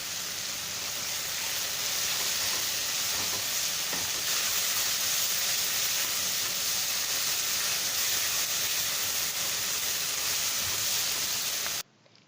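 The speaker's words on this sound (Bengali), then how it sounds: "এখন আমি কিছু টাইম নাড়াচাড়া করে টমেটোটাকে এমনভাবে ভেজে নেব টমেটোটা যেন গলে যায়।" Tomatoes frying with salt in a pan while being stirred, a loud steady sizzle and hiss that holds for about twelve seconds before cutting off abruptly, with no talk.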